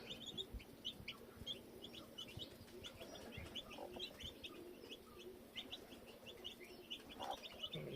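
Chicks and hens on a farm, pecking at scattered grain, cluck and peep in a steady, faint background chorus with repeated short chirps.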